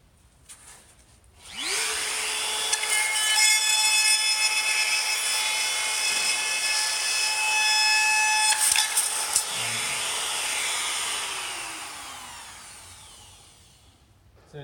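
Power drill with a bit boring through the plastic webbing inside an ICF (insulated concrete form) wall, a loud steady high whine that spins up, runs continuously for about twelve seconds with a brief pitch change, then winds down.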